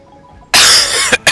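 A single sharp cough bursts out near the microphone, followed by two short, quieter coughing bursts a moment later, with near silence beforehand.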